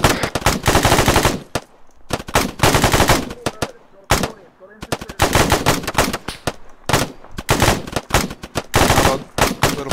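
Rapid machine-gun fire from gunners in the ArmA 3 military game, loud and close, coming in long sustained bursts separated by brief pauses, with other shots layered between them.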